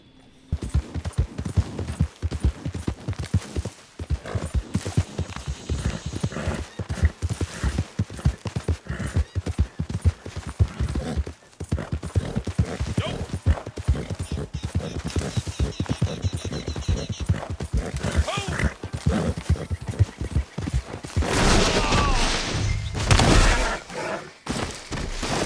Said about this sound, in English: if I came upon a little fence that the horse would jump over it. It didn't, and I hit it and I went flying.